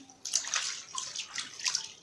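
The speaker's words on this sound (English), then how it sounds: "You rinse your hand." Hands are rinsed in a basin of water while preparing to grow oyster mushrooms, making a few close, splashy sloshes and trickles in uneven bursts against a quiet background.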